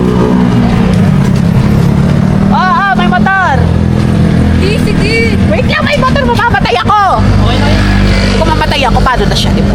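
A motorcycle passes close by on a street, its engine rising and falling under ongoing chatter and background babble from several voices.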